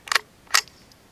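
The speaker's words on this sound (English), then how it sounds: "Have to take out the magazine, push it back in," A .22 LR rifle magazine is pulled out and pushed back in, making two sharp metallic clicks about half a second apart, close and crisp, with no talk.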